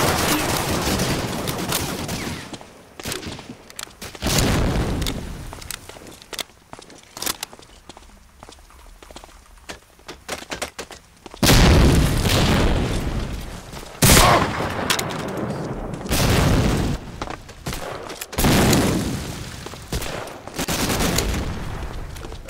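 Machine gun fire in Medal of Honor: Allied Assault during online play, loud sustained bursts that come in repeated clusters with short pauses, some stretches quieter and more distant between the heavy volleys.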